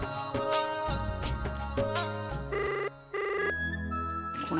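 A telephone rings loudly nearby with a melodic electronic ringtone, repeating bursts of bright tones cutting over a busy domestic scene.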